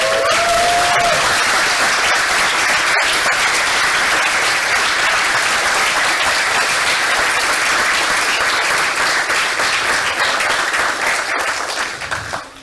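Sustained round of applause from a graduation ceremony audience, loud and steady for over ten seconds before tapering off at the end, with a brief tone at the start.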